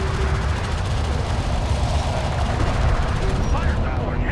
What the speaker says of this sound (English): Enemy railgun firing on friendlies.